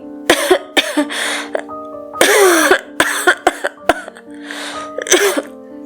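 Someone coughs repeatedly in short, close bursts, with some throat clearing, over a steady low hum in the background.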